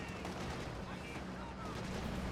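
Dushka heavy machine gun in Company of Heroes 2 firing armor-piercing rounds amid a dense, continuous battlefield din of gunfire and artillery, with a caster's voice running underneath throughout.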